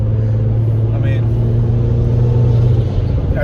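A BMW 335is with an N54 engine fitted with port injection drives with a loud, constant engine drone and road rumble inside the cabin, while someone talks over it.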